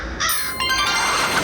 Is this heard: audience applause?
no